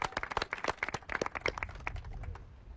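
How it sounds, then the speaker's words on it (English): An audience at an outdoor news conference for a playground groundbreaking claps for a few seconds, sharp, fairly close individual claps in an uneven patter that thins out toward the end, with no voices over it. "Let's give him a round of applause for the lemonade stand."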